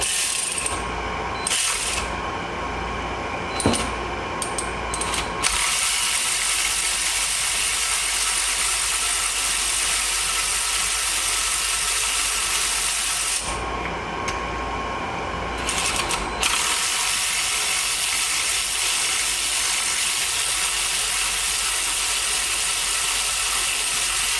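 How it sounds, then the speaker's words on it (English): Battery-powered ratchet spinning bolts out of a 1994 Sea-Doo SPI jet ski hull, whirring in long bursts at close range with brief pauses between runs, no talking. "It's easy if you have a battery powered ratchet."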